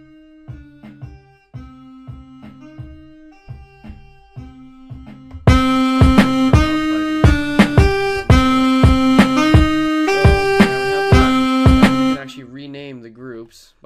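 Drum beat programmed on Maschine Mikro pads and quantized: sparse, evenly timed hits at first, then a louder, fuller looping pattern of punchy pitched and percussive strikes that cuts off near the end, with no talking.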